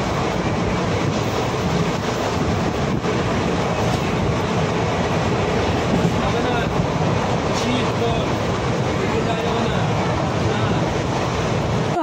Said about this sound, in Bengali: আমরা তো নেমে গেছি স্টেশনে, ট্রেন থেকে।